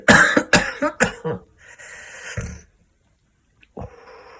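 A burst of several harsh coughs in quick succession, close and loud, followed by a rough throat-clearing breath and a brief pause before another cough starts.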